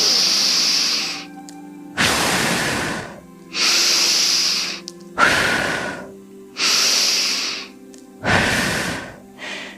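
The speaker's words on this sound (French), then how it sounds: "je vais effectuer 3 respirations plus toniques" Three deep, forceful breaths taken one after another up close during a relaxation session, each a long hissing inhale followed by a rushing, breathy exhale, with no talking.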